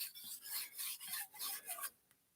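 A knife blade is drawn again and again across a sharpening stone, about eight close, raspy strokes in a steady back-and-forth rhythm before a brief quiet tail, with no voices.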